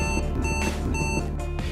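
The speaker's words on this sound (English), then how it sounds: "You will also hear an intermittent warning tone if you approach the vehicle in front too quickly." A Mercedes-Benz CLA sounds its Collision Prevention Assist warning when closing too fast on the vehicle ahead: short repeated electronic beeps pulsing intermittently over a steady hum, with no speech.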